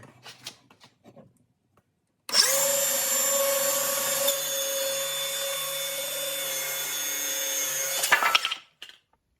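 A power saw whines steadily for about six seconds while cutting 2x4 lumber for a cornhole frame, loud and close, with a slight pitch drop midway and brief knocks and handling sounds before and after.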